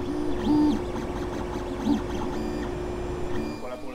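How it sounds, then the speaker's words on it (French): Motherboard cooling fan of a Geeetech A10M dual-extruder 3D printer, a steady close whir with a constant tonal hum, running evenly throughout and joined by faint chirping motor tones near the end. "Voilà pour le ventilo de la carte mère."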